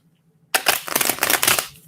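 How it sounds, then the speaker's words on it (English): Tarot cards being shuffled, a sudden close burst of riffling and flapping that lasts a little over a second after near silence. "Trying to shuffle the cards"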